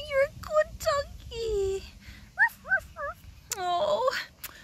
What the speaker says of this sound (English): Oh, you're a good doggy.